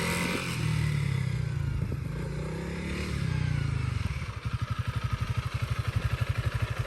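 A Honda CRF300L Rally motorcycle fires up and idles, then throttles up with a rising engine note, turning into a loud, pulsing thump as it rolls and accelerates close by.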